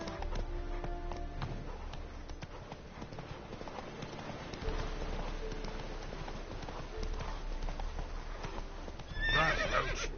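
Roach the horse galloping in Witcher 3, a rapid clip-clop of hooves under a constant rush of game ambience, ending in a loud close neigh.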